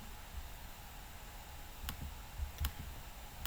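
A computer mouse clicks twice, giving two faint, sharp ticks about a second apart over a quiet hiss of background noise.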